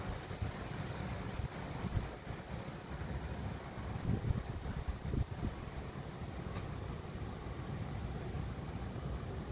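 A constant, heavy rush of wind during Typhoon Opong fills the air, loud and close with buffeting microphone noise and a few brief thumps midway.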